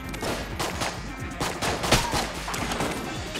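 Enemy gunfire in Enter the Gungeon, a rapid volley of overlapping shots and bullet impacts popping steadily across the whole stretch, loud and close, with game music underneath and no talk.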